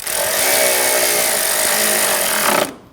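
A power tool drives an engine mount bolt home on a 2012-2022 Volkswagen Passat 2.5L five-cylinder: a loud, close, continuous whirring buzz for about two and a half seconds, then it cuts off abruptly.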